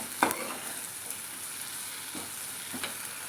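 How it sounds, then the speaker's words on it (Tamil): Okra and tomato sautéing with salt in a pan for a tamarind vatha kuzhambu, a faint steady sizzle with a couple of soft utensil scrapes and clinks, no talking. "உப்பையும் சேர்த்து வதக்கும் போது வெண்டைக்காயும் தக்காளியும் சீக்கிரமாக நல்லா வதங்கிடும்."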